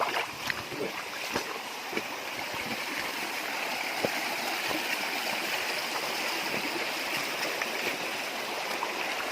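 Water of a clear river in North Kalimantan streams and gurgles steadily near the listener, with scattered splashes and knocks over the constant flow.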